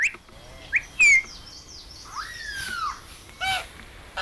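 Bird in the Bidoup forest canopy giving a series of sharp high chirps and whistled notes, including a longer sliding whistle, close and clear over a quiet forest background.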